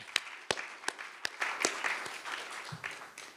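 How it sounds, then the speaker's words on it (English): Scattered clapping from a conference audience after a keynote talk on populism, with uneven claps that build briefly into a light patter of applause before thinning out, heard at a moderate distance. "I think this deserves even a bigger applause for Nicole Curato."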